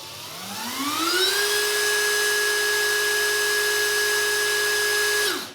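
A Dongcheng DCPL208 impact driver in auto (screw) mode whines up gradually from a low pitch to a steady high tone, holds it for several seconds, then winds down, loud and close with no talk.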